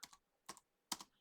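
Fingers type on a computer keyboard in three quick, faint clusters of keystroke clicks separated by short silences.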